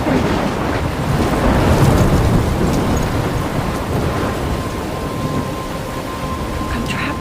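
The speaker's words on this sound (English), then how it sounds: "I'm trapped in a storm?" Thunderstorm in the video game Life is Strange: steady heavy rain and a deep, continuous rumble of thunder with gusty wind, loud and unbroken throughout.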